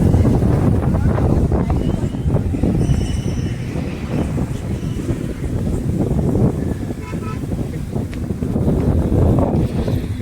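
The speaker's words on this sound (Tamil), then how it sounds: "செம்ம காற்று." Strong wind buffets the microphone in a steady, loud low roar throughout at a lake park, with faint voices now and then.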